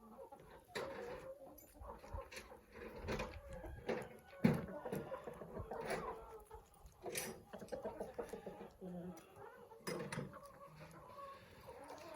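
Several roosters crow and cluck around a farmyard, including a second rooster strutting about, with repeated crows and clucking rising over a busy background of other poultry, moderately loud and close.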